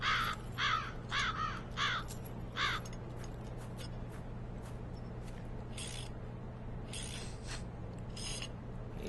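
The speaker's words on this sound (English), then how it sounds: "Ravens have got hard beaks that are as sharp as knives." Ravens cawing in the video game Black Mirror 2, a few harsh, rhythmic caws bunched in the opening seconds over a steady low hum, followed by fainter distant calls later on.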